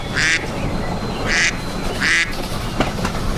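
A duck quacks three times in an even rhythm, clear and close, with faint background hum and no talking.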